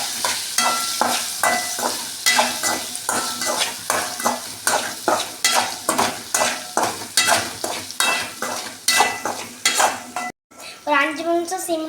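Potatoes stir-fried in a pan with spice powder, a steady loud rhythm of spatula scrapes and stirring strokes over continuous sizzling, with a brief pause and shifting sizzle near the end; no talking.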